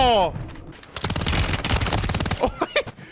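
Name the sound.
dual-wielded machine guns firing rapidly in Warzone video game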